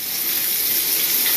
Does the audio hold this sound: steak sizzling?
yes